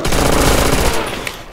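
A Browning machine gun in Call of Duty World at War firing a rapid close burst of loud shots that cuts off and trails into quieter background noise.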